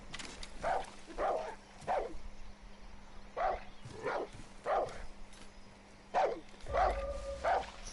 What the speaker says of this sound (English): His dog will bark when he sees an enemy.